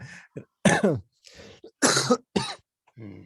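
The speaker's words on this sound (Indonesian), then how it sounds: "Sampai batuk tuh" A few sharp, harsh coughs in quick bursts, close by, with short gaps between them and a softer throaty sound at the end.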